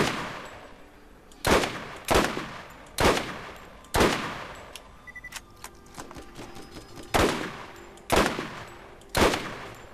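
Loud, sharp sniper rifle shots fire one at a time at roughly one-second intervals, each with a short echoing tail, in the video game Borderlands.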